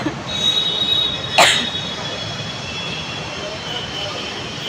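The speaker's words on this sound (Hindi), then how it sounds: "तो मेट्रो आ जाती है और हम चलते हैं।" A metro train rolls in with a steady rumble, a sharp brief screech of wheels near the start and a thin, sustained squeal above the noise.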